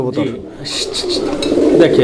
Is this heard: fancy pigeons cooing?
yes